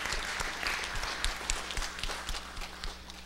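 A church congregation applauds during a Sunday service: many hands clap steadily at mid-distance, with a few brief louder claps standing out.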